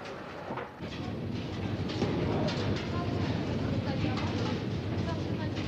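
Moscow metro train running underground, a steady loud rumbling roar with rattling clatter throughout, under a narrator's voice.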